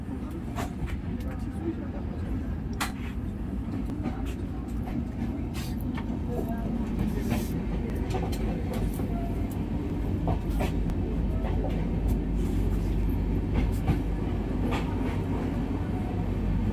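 Inside the Shatabdi Express between Howrah and Bolpur, a constant deep rumble and rattle of the carriage on the rails fills the cabin, with faint voices and occasional clicks over the steady roar.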